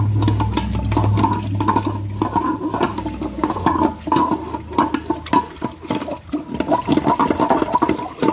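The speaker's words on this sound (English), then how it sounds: "I don't even need to wait for it to finish flushing." A 2001 Capizzi toilet flushes in a steady, close rush of water that swirls and gurgles throughout, with a low rumble and scattered splashes.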